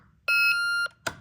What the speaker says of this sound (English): it's just a very short beep on this keypad.